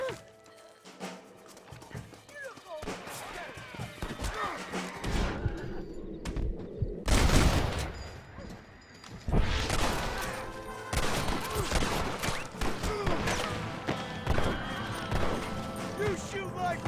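Gunfight in the Red Dead Redemption video game, with scattered gunshots and bursts of fire mixed with galloping hooves and horse whinnies, plus shouting voices, loud and busy throughout.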